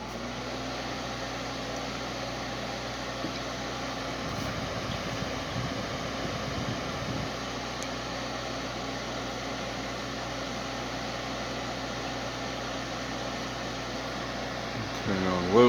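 A vintage King of Fans Maxi Heat II space heater, rated 120 volts and 1500 watts, running on its fan setting with a steady whirring drone and low hum, a brief louder rumble in the middle, someone talking over it at times.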